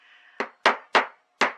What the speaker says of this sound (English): Upholstery hammer, I suppose that's what that is.